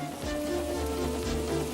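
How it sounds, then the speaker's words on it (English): Wind and rain sweep steadily through a storm scene, a dense, continuous wash of noise with low rumbling tones and no spoken voice. "Wind and rain buffeted Edward."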